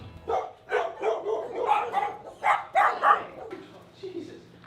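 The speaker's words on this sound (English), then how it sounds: "I want to see puppies, cute little puppies." Small puppies yipping and barking in short, bright bursts, several clustered calls close by, with people talking over them outdoors by a creek.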